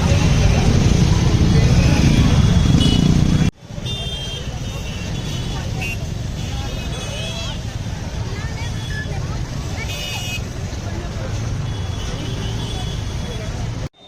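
Dense road traffic on the crowded road beside Dashashwamedh Ghat in Varanasi: a loud, steady rumble of engines with horns and crowd babble, and voices talking over it.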